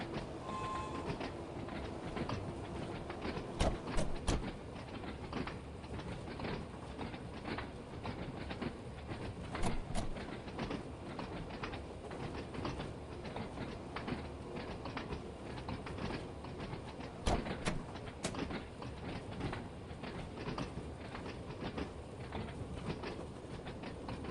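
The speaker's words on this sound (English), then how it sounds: "we'll probably put it into shunting and put this train to bed" A train runs on rails in the Train Sim World 2 video game, a steady rolling rumble with periodic clickety-clack of wheels over rail joints and occasional sharp clanks, moderately quiet and without speech.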